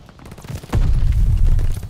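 A Panzerschreck rocket explodes in the Call of Duty: Vanguard video game, a sudden loud blast partway in that rolls into a deep, rumbling roar lasting about a second before cutting off.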